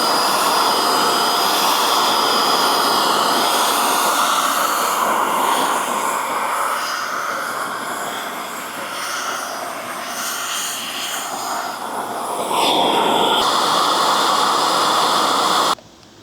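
A DIY paint spray gun on an air hose lays down a coat of paint with a loud, steady, airy hiss that wavers slightly mid-spray, then cuts off abruptly near the end.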